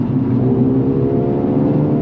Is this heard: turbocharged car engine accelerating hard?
yes